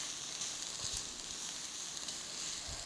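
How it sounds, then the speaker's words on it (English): Finely chopped onions, green chilies, garlic and curry leaves stir-frying in hot oil, giving a soft, steady sizzling hiss with a few faint low knocks and no voices. "add the onions, green chilies, garlic and curry leaves, all finely chopped. Slightly stir fry this."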